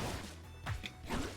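Ranno performs an up smash attack in Rivals of Aether 2, landing with a punchy crash and thwack over a dense, loud backdrop of game music and effects, then a second softer hit.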